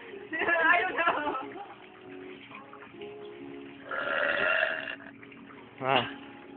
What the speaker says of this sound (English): I don't need soda to burp.